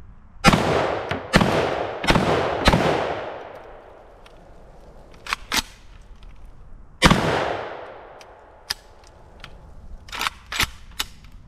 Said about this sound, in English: now I got 5 shots of the number 9 birdshot from bio ammo